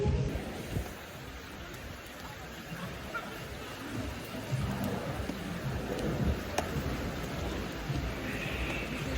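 Heavy rain falls during a storm in the grandstand at GP Explorer, a steady hiss under the murmur of a crowd and nearby chatter.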